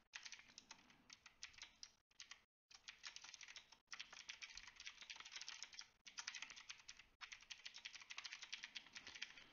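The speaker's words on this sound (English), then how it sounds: "if my cat would stop pressing buttons on my keyboard" Rapid, irregular clicking of computer keyboard keys pressed by a cat, with scattered presses and short pauses, close and fairly quiet, with no voices.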